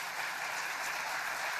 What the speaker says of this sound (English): Let's give Grayson a round of applause as well.